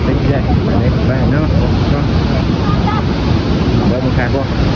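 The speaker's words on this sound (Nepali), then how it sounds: "यस्तो छ खोला ठुलो आएर रहेछ" A river swollen after rain in the hills rushes past in a loud, continuous roar of churning water, close and unbroken, with wind buffeting the microphone.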